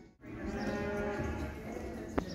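A cow on a ranch gives a single long, low moo close by that fills most of the moment, steady and moderately loud with no talk over it.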